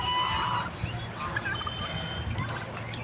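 Overlapping gobbling calls from a flock of turkeys at a poultry farm, fairly loud and continuous, over a busy outdoor background.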